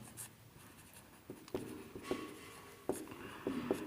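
Notes are written during a chemistry lesson, with scattered scratchy strokes and taps of the writing tool, close and soft, in a quiet room without talking.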